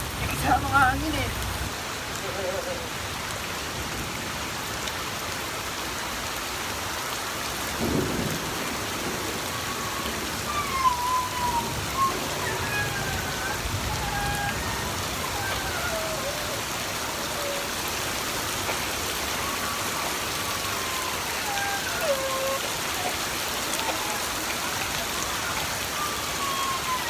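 Steady rain patters throughout, a dense hiss of drops on surfaces with faint voices and occasional chirps in the background.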